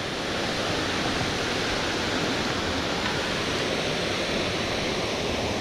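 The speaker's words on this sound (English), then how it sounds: "We're right up next to the waterfall." Steady, dense roar of a waterfall heard from close range at a Tennessee fishing spot, a broad continuous rush of falling water with no voices.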